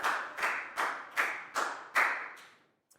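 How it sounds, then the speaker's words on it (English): A classroom group claps for a student in a lesson, six or so synchronized rhythmic claps at a steady beat, each ringing briefly in the room before fading. "Big round of applause for Pangpon"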